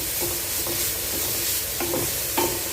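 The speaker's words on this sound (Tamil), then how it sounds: "அப்படியே நல்லா வதங்கி அந்த போட்ட நெய்யிலேயே நல்லா வதங்கி வரட்டும்" Grated bottle gourd sautés in ghee in a pan, steady frying hiss under repeated rhythmic spoon strokes scraping through the shreds, close and even in loudness.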